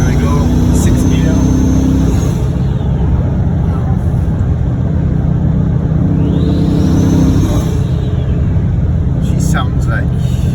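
A tuned Audi RS4 B7 with a single-turbo engine rumbles loud and close from inside the car, with a rising whoosh of turbo spool sweeping up over the steady engine drone.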